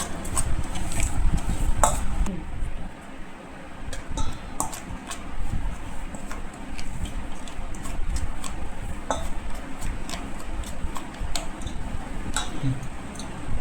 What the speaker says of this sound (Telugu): మూడు స్పూన్లు ఉప్పు కలుపుకుందాం మొత్తం